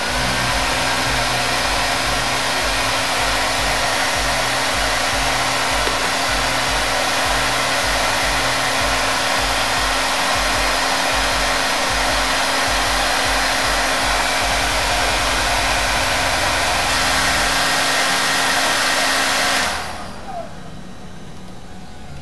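A hair dryer runs continuously at close range with a steady loud whoosh and motor hum, drying hair at medium or high heat, then cuts off abruptly near the end.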